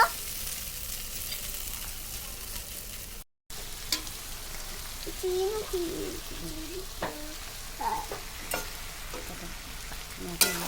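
Chowmein noodles frying in a pan give a steady, close sizzle with occasional stirring scrapes and a brief dropout partway through. No voices are heard.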